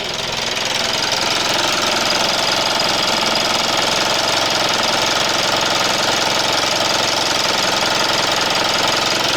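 A Mitsubishi Outlander 2.2 DI-D diesel with an EGR valve fault idles loudly up close, a steady, rough knocking clatter that holds unchanged from start to finish.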